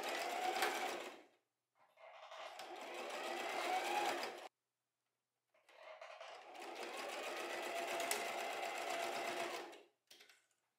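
A sewing machine runs in two steady bursts of rapid stitching, closing the small opening on a fabric scrunchie, with a short pause between runs and a brief final whir, close and fairly quiet with no talk.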